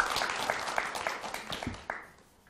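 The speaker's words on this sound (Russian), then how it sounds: "Я думаю, зрители тоже поддержат и аплодисментами" Audience applause at a Russian talk-show style meeting with a young talent, a scattered burst of clapping that thins out and fades over a couple of seconds, moderately distant.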